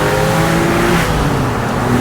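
A Porsche fitted with a lightweight flywheel revs hard in first gear, a loud, steady, close engine drone with a rising pitch over two seconds and no voices.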